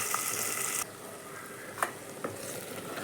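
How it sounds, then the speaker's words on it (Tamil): Tamarind water goes into frying masala for fish curry. A loud hiss of sizzling suddenly drops to a quieter bubbling simmer, with a couple of sharp clinks near the pan. "பானகன்னே புளி தண்ணி ஊற்றிக்கலாம்"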